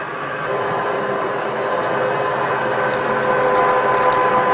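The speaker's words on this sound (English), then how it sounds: "once you see that it's starting to thread onto the dies, you can go ahead and let the hand wheel go, and it will thread itself on there" A Ridgid 1224 power threading machine threads a pipe, giving a steady, continuous mechanical whir with a faint ratcheting, gear-driven texture that grows slightly louder toward the end, heard close and with no talking.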